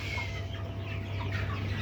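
Chickens on a poultry farm cluck in a dense, continuous chorus over a steady low hum, with no voices.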